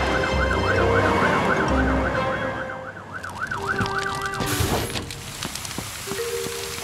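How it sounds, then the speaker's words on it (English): A fire truck siren in a children's cartoon wails in a steady rising and falling pattern for several seconds, then cuts off, with engine-like rumble and other cartoon sound effects beneath it. "They're brumming too loud to hear Fiona's siren."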